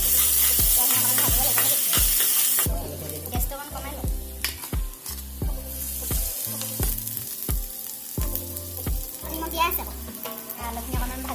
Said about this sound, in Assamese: আলুখিনি অকণমান ভাজি ল'লে